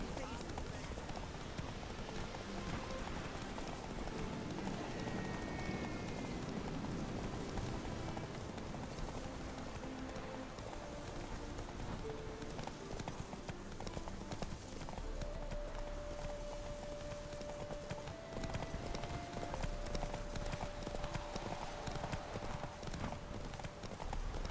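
Geralt's horse Roach in The Witcher 3: Wild Hunt, its hooves clopping in a steady galloping rhythm, near and continuous, over a rain-like wash of game ambience while voices talk intermittently.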